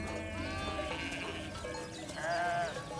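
A flock of sheep bleats in overlapping calls while herding dogs work among them, the wavering cries rising and falling near and far with a louder, closer bleat toward the end.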